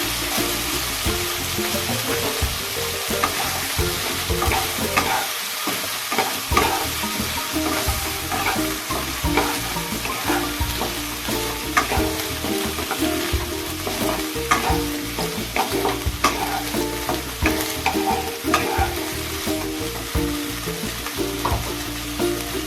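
Vegetables with ginger paste stir-fried in a pan for gota siddho, giving a loud continuous sizzle with constant rapid scraping and stirring close by for over twenty seconds.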